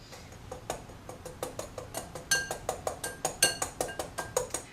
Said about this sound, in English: I am going to whisk this for 1 minute